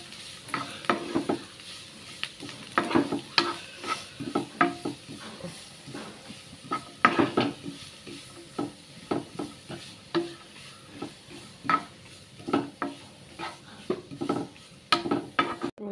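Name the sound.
onions frying and being stirred in a pan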